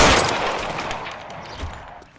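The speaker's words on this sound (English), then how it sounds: "Shots fired and officers need help at 1452." Gunfire in the video game L.A. Noire comes as a rapid string of sharp cracks that starts loud and thins out into scattered, fading shots over about two seconds.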